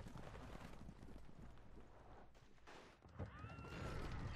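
Horses whinnying with hoofbeats clattering as mounted riders set off in the Stronghold 2 strategy game, busy and fairly close, the neighs rising clearly toward the end.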